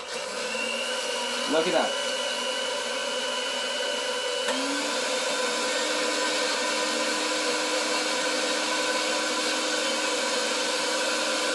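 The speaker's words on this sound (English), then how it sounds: "Gonna blend it really nice in my blender." A blender runs steadily, whirring and whining as it purées Peruvian ceviche into leche de tigre, the motor pitch shifting partway through. Someone speaks briefly over it.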